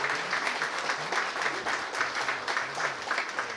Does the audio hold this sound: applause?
yes